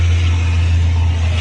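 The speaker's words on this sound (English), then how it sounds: "Sorry about that noise. I got the car out here in the front." A steady, loud engine hum from an 1984 Buick Regal G-body with an LS swap, running close by outdoors in a driveway, with a constant low drone throughout and no talking.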